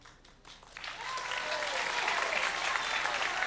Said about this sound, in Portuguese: Estos aplausos espontáneos son para ti.